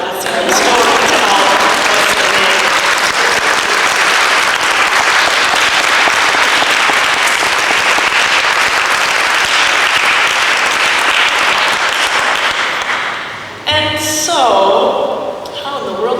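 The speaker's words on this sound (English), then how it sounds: "You have to clap now" Sustained, loud audience clapping fills a hall after a story reading, a dense wash of applause that fades briefly near the end before a few voices and renewed claps.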